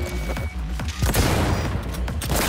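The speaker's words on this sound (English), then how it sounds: "machine gun Fenrir" Fenrir machine gun fire in the video game Cyberpunk 2077, a loud, dense burst of rapid shots that rises into continuous gunfire with booming impacts.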